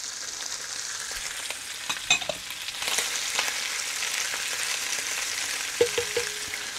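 Onions and diced bacon frying in a Dutch oven for beef goulash, a close, steady crackling sizzle with occasional stirring clinks and scrapes.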